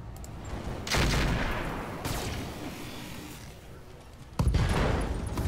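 Gunfire in the mech combat video game Roguepoint, a few heavy booming shot bursts with rumbling tails, separated by quieter lulls, close and loud.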